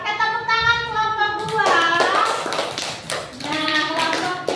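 A fourth-grade class claps hands together for a group in a rhythmic, patterned clapping cheer, with children's voices chanting along, close and lively.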